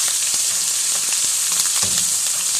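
Ginger garlic paste sizzles steadily in several tablespoons of hot oil, a continuous close, loud frying hiss with small crackles and no voices over it.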